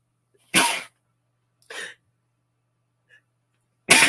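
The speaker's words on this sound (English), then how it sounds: "going to sneeze" Three sharp sneezes burst out close to the microphone, separated by short silences, the last cut off at the end.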